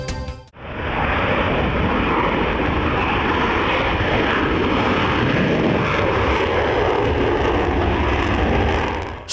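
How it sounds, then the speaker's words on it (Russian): A two-seat all-weather MiG-31 fighter-interceptor jet roars loudly on its takeoff run, a dense, continuous engine blast that holds steady and close throughout. "Стремительный разбег и двухместный всепогодный истребитель-перехватчик МиГ-31 взмывает ввысь"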